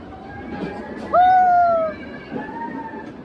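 The Ooty heritage steam toy train runs amid a crowd on a station platform, giving one loud tonal whistle-like blast that lasts about a second over steady crowd babble and background noise, with murmuring continuing after it.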